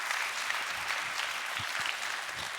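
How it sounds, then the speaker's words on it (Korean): Audience applause in a lecture hall, a dense continuous wash of many hands clapping together, steady and fairly loud throughout. "되게 박수가 후하시네요"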